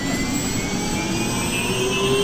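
An Apache helicopter engine starting up, a steady loud whine with rising tonal pitches over a broad low roar, continuous and close, with no talking.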